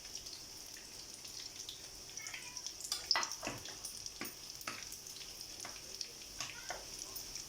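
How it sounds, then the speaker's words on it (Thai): Crispy pork pieces deep-frying in hot oil until golden, a soft steady sizzle broken by scattered pops and crackles, with one sharper clink partway through. "ทอดพอเหลืองนะคะ เขาขึ้นมาก่อนเนาะ"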